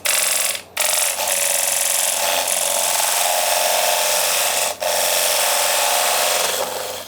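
A skew chisel parts off a large wooden platter on a wood lathe, making a loud, continuous dry scraping hiss that breaks off in two brief pauses.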